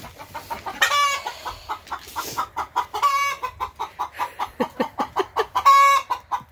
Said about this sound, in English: Calm down, chickens.